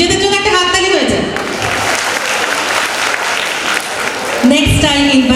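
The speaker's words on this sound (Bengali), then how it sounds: "নিজেদের জন্য একটা হাততালি হয়ে যায়" Audience applause at a cultural event in a hall, a steady dense clapping that swells for several seconds, with a speaking voice at the start and end.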